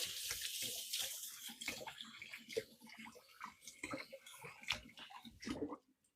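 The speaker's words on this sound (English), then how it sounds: "let me get my hands washed up real quick" A kitchen faucet runs steadily while hands are washed beneath it, the water splashing and shifting for about six seconds before shutting off abruptly near the end.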